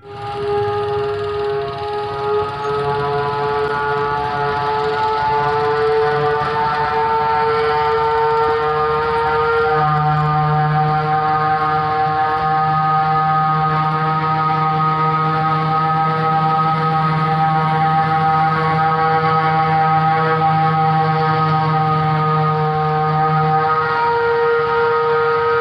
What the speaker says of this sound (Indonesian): selalu ada suara seperti sirene yang bertiup, dan suaranya itu benar-benar mengerikan